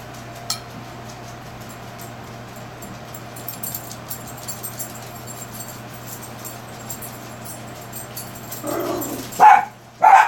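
A dog gives a couple of sharp barks near the end after a quiet stretch with faint clinks and small sounds.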